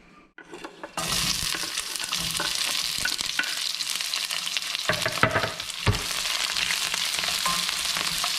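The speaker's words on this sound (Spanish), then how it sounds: "Nuestro aceite ya está caliente. Ahora lo que vamos a hacer es echar nuestra cebolla a guisar." Chopped onion hits hot oil and fries in a loud, steady sizzle that bursts in after a near-silent second and continues densely to the end, with brief dips where it is stirred.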